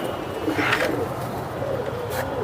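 Khaki pigeon cooing softly in a loft, a few low murmuring coos close by over a faint steady background, no talk.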